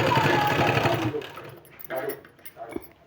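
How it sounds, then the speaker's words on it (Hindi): A sewing machine stitches across a folded sleeve in a close, loud run lasting about a second. Quieter fabric handling and small knocks follow. "इस तरह से फोल्ड करके और यहाँ सिलाई लगा देना है"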